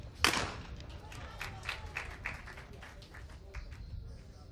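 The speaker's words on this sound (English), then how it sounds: "The Brits not making quite as much noise as some of the others, but a polite cheer and clap nonetheless." A small crowd at a skeet shooting competition gives a polite cheer and scattered clapping. One sharp report comes first, then irregular, moderate hand claps that trail off over a few seconds.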